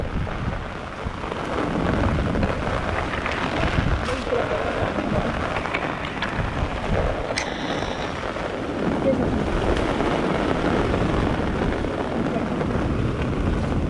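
Heavy rain falls on a hillside in a steady, loud downpour, a dense continuous hiss that never lets up.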